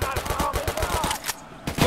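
Rapid automatic gunfire rattles in a quick burst in Escape from Tarkov: Arena, close and loud, with a few extra separate shots after a short pause.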